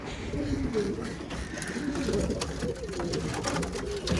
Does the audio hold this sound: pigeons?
yes